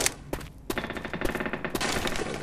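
Dual pistols fire in Left 4 Dead 2, a dense stream of rapid, overlapping shots mixed with game noise, loud and continuous with no pauses.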